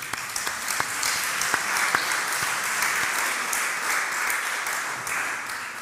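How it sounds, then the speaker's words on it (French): An audience at an alumni debate on public decision-making during Covid-19 applauds the panel speakers. Dense, sustained clapping fills the room evenly for several seconds, with a few sharp individual claps near the front and no one speaking. "je pense qu'on peut applaudir nos intervenants"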